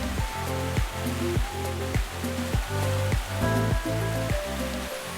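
A river rushes over a rocky riverbed with a steady broad hiss of flowing water, while rhythmic background music plays over it.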